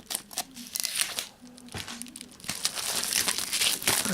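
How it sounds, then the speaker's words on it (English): Shrink wrap is crinkled and torn off a Game of Life Fame Edition board game box, with irregular bursts of crackling plastic and a brief tearing rip, alone without talk. "Get out the shrink wrap packaging."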